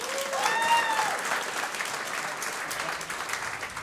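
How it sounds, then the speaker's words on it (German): Audience clapping at a German stand-up comedy show, a dense round of applause that swells early and then settles into steady clapping, with a few whistles at the start. "Einmal bitte klatschen."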